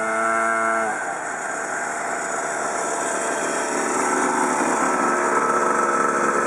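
A petrol-fuelled mini bike with gears runs steadily, a buzzing small engine drone held at an even level throughout, preceded by a brief higher whining tone at the very start.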